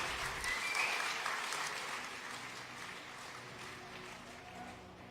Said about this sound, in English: please, again, give a big cheer for DeMusliM and Nerchio